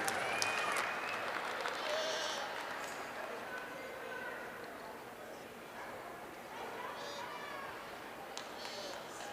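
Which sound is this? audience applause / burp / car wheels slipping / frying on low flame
audience applause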